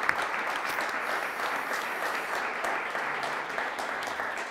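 Steady, even applause from an audience at a conference session honoring its speakers, a continuous wash of clapping heard close and unbroken for a few seconds.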